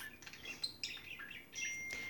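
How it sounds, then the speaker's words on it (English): Birds chirping in the trees at Iguazu Falls, Argentina, a few bright, close tweets and whistled calls in quick bursts over a soft outdoor background. "those beautiful birds there are, I don't know what their name is over there, but they're like the magpies of South America."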